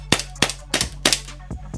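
JAG Arms GMX gas blowback airsoft pistol firing BBs from a second magazine not recharged with gas, in a room around 65 degrees: six or seven sharp, close pops in an uneven quick rhythm.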